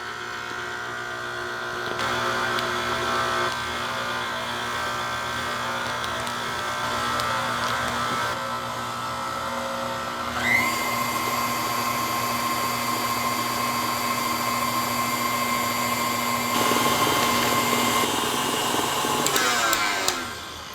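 An electric mixer whirs steadily while beating powdered sugar icing for gingerbread cookies, then its motor pitch climbs sharply as the speed is raised, humming continuously and close throughout with no talking.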